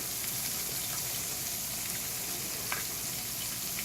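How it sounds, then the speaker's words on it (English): Tortillas frying in hot oil in a pan for a cinnamon sugar dessert, a steady soft sizzle and crackle with occasional small pops, close and fairly quiet, no talking. "and I'm frying these tortillas up."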